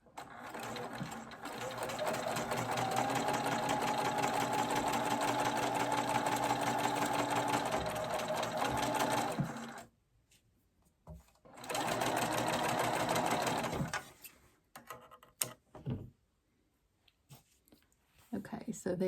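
Sewing machine stitching a seam on folded stocking fabric, running steadily for about ten seconds, pausing, then a shorter burst of stitching followed by a few quiet handling clicks and rustles.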